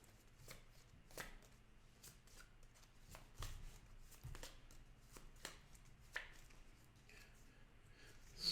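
Game cards for Franklin's Fortune are shuffled by hand on a table, a run of soft riffling and tapping bursts, close and fairly quiet, with no talking.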